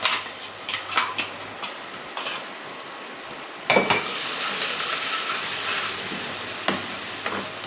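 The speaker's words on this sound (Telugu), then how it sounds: "వేసుకొని ఇందులో పచ్చడి అంతా వేసి చక్కగా మిక్స్ చేసుకోవడమేనండి" Chutney of ridge gourd and tomato stirred into a sizzling tempering with a pinch of asafoetida, loud steady frying hiss with scraping spoon strokes early, swelling into a dense sizzle after the mixture hits the pan.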